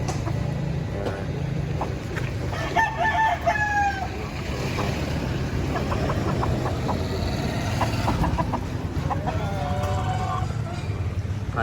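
A derby-size Gilmore Hatch gamecock rooster crows twice at mid-distance, separated by a pause, over loud, steady outdoor noise with some voices in the background.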